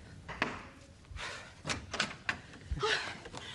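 A front door opening at home, with a few separate knocks, thumps and a latch-like clunk spread unevenly, fairly close and moderately loud, in a domestic scene with no talking.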